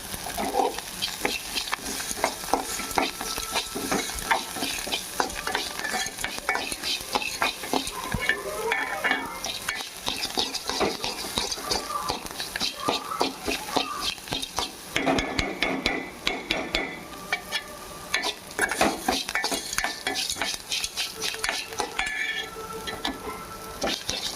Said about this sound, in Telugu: కొత్తిమీర క్రిస్పీగా వచ్చిందాక వేసుకోవాలండి, ఎందుకంటే మనకి పొడైపోకుండా ఉండాలంటే మంచిగా తేగాలి.